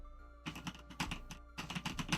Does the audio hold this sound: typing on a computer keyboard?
yes